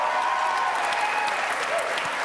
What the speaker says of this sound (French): Alors, je vous demande de l'applaudir.